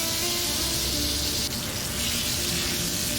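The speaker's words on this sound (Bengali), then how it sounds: "এরপরে আলুটাকে ভেজে নেব" Potatoes frying in a pan make a steady, dense sizzle that stays loud and close throughout, with no talking.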